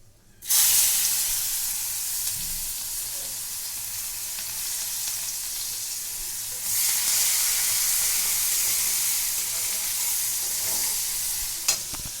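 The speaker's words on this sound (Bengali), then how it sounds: "এবার আমি পেঁয়াজগুলো ছেড়ে দেবো" Onions hit hot oil with a sudden loud sizzle that keeps crackling and hissing steadily, then swells again partway through, with no voices.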